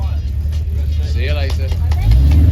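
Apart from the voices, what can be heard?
1988 Aston Martin V8 Vantage Volante driving past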